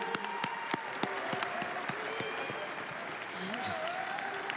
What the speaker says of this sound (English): Let's have a round of applause for Emmanuel the Witch Doctor Dawa